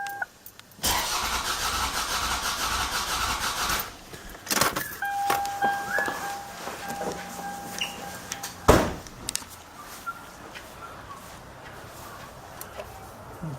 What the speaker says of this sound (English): we're going to crank the engine for cylinder number 4 to check the compression